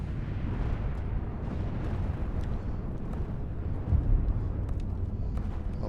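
Artillery bombardment in the war game Dig In: a continuous low, rumbling roar of distant shelling, with a heavier boom standing out partway through.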